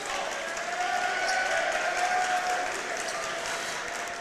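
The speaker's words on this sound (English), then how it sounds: "the Redbirds bench applauds the effort of Rowan Domofsky getting his hands in the passing lane" Applause from a high school boys basketball team bench during a WIAA game between Marquette and DePere, a steady patter of clapping with crowd murmur in a gym, moderately distant and sustained throughout.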